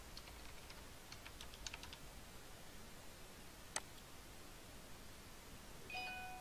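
Faint, quick key taps on a computer keyboard come in a short burst near the start, followed by a single sharp click and a brief tone near the end, all against a soft background hiss.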